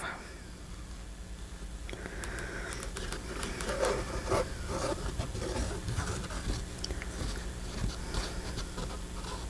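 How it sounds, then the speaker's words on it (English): Fabric rubbed and scraped against stringy Fabri-Tac glue on a book cover makes a steady, close scratchy rustle with irregular friction bursts, continuing for several seconds without speech. "I'm using the fabric to kind of break the glue strands off."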